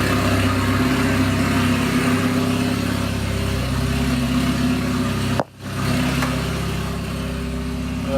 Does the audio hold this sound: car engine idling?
yes